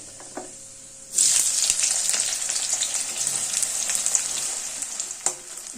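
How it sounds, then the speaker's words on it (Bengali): Sliced onions drop into a hot wok on a high gas flame, setting off a sudden loud sizzle that holds steady and close for several seconds. "গ্যাসের ফ্লেমটা হাইতে দিয়ে পেঁয়াজটাকে ভেজে নেব"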